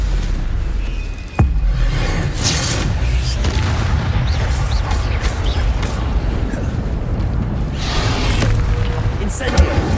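Stupefy spells are cast in combat in Hogwarts Legacy on PS5, with booming magical impacts and blasts layered over dense, continuous loud game noise and shouted voices.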